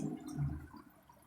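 Water draining with a low gurgle, a brief, faint bubbling burble that fades out, heard alone.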